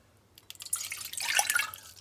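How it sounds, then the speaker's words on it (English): Water poured for a homemade elderberry batch with honey, a light splashing, trickling stream that builds over about a second and a half, close and fairly loud, with no talking. "Add 2 cups of water."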